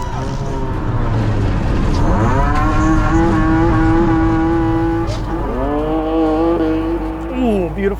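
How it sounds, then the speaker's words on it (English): A Subaru H6 rally car powers through a snowy corner at the Sno*Drift Rally, its engine rising and falling in pitch across two strong revving passes, loud and close, with tire noise and crowd voices underneath. "beautiful H6 coming through the corner"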